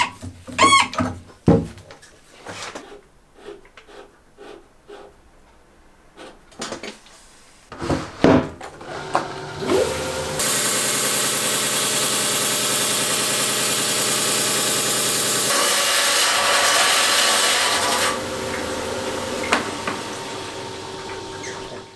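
A lapidary rock saw cuts a Mexican Crazy Lace agate clamped in a vise, starting with clanks and knocks of setup and then a loud, steady grinding whine that holds for several seconds before easing off.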